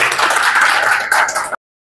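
An open mic audience gives a round of applause for a performer, a bright, busy burst of many hands clapping that holds steady and then cuts off abruptly.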